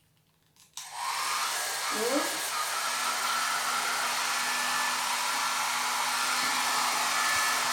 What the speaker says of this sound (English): for the moment, my hair dryer